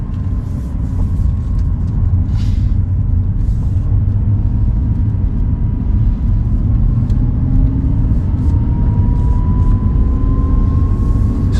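An Audi R8 climbs a curving mountain road in Andorra at low speed, its engine a steady, close, unbroken drone with no voices.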